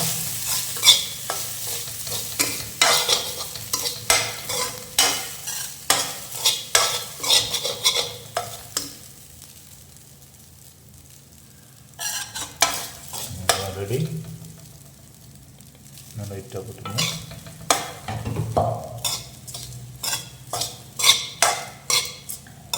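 Lemon rice being stirred and fried in a pan, with a spatula scraping and clinking against the metal amid a soft sizzle, coming in repeated bursts with a quieter pause midway; a person speaks at moments.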